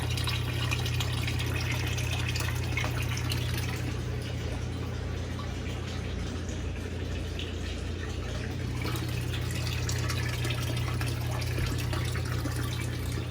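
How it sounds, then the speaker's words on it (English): Water flowing steadily in an aquarium, a continuous close rushing and bubbling wash with a low hum underneath, unbroken throughout. "The water flow."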